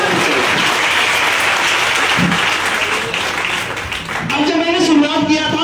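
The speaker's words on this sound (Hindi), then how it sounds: "एक बार शानदार तालियां उनके लिए।" Audience applause at a business seminar, a loud sustained burst of clapping filling the room before it fades and a voice begins speaking over the tail.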